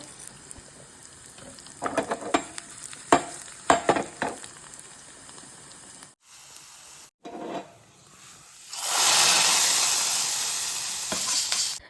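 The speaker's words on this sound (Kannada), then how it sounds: "ಕರಿಬೇವು ಸಾಸಿವೆ ಸ್ವಲ್ಪ ಜೀರಿಗೆನೆಲ್ಲ ಹಾಕಿ ಒಗ್ಗರಣೆ ಕೊಟ್ಕೋಬೇಕು" Curry leaves, mustard seeds and cumin sizzling in hot coconut oil for a tempering, with crackling pops and stirring early on, then a sudden loud sustained hiss that fills the second half, close and without talk.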